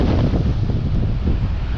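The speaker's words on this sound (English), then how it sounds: "Windy." Steady, loud wind buffeting the microphone along the shipyards at St. Paul's Bay, Malta, a dense low rumble with no pauses and no voices.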